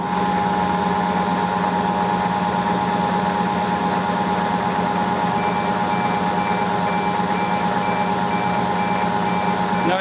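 A lathe running with a bearing that has no lubricant, a steady loud mechanical hum with sustained tonal whine and a faint intermittent high beeping pulse partway through, continuous for the whole stretch.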